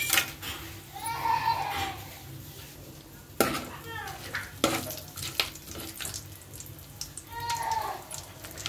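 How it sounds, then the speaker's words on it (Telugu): Whole garam masala spices crackle and sizzle as they hit hot oil and ghee in a pan, a steady frying hiss with brief louder bursts, while a voice talks over it. "ఇదిగోండి ఆయిల్, నెయ్యి అనేది వేసాను. కాగిన తర్వాత హోల్ గరం మసాలా అనేది ఇందులోకి వేద్దామండి."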